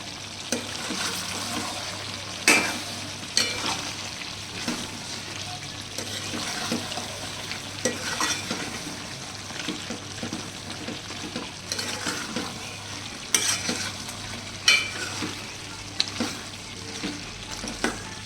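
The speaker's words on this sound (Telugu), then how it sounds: "కొత్తిమీర కూడా యాడ్ చేసి మంచిగా కలిపి ఒక 5 minutes సిమ్లో ఉడకనియండి." Country chicken curry with coriander simmering in a pan, a continuous bubbling sizzle broken by repeated scraping stirs and clinks of a spoon over eighteen seconds, close and fairly loud with no speech.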